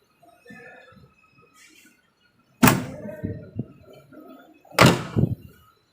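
Rear door carrying a spare tire on a 2000 Nissan Patrol 4.2 being handled: two loud, close heavy thuds a couple of seconds apart, each followed by rattling clunks, with quiet talk and handling noise between.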